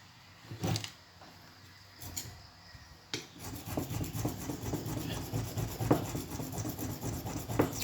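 Steady rasping scrapes of a knife made from a saw blade shaving leather, repeated strokes growing denser and louder after a few scattered rubs.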